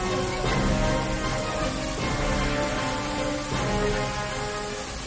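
Torrential rain pours over flooded streets in Jaipur, a dense continuous roar of water with a steady hiss and no break.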